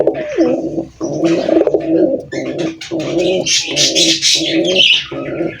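Pet pigeons kept as a hobby give loud, close, repeated cooing in an even rhythm of about six calls, with higher chirps from other birds layered over the later calls.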